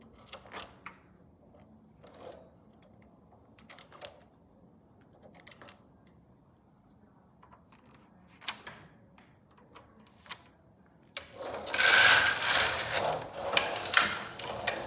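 A Silver Reed knitting machine carriage knits pink yarn over pink, heard as a brief run of clicks followed by a loud sustained rasping sweep of the carriage across the needle bed near the end.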